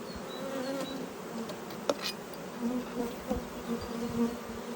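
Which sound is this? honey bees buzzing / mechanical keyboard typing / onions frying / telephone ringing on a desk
honey bees buzzing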